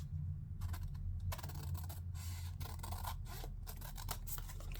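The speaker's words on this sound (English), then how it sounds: "So we just need to cut that part away." Scissors trim paper for an Easter journal, giving close, soft crisp snips and rubbing paper sounds in short bursts over a low steady background hum.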